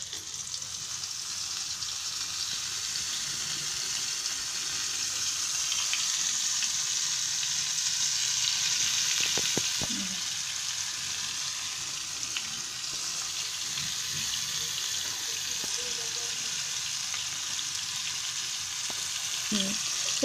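Batter-coated Bombay duck (bombil) fish fry on low gas heat in a pan, giving a steady, close sizzle that holds throughout.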